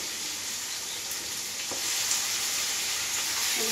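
Chicken sizzles in a pan of hot oil with fried tomato and onion, a steady close hiss and crackle running without a break and no talking.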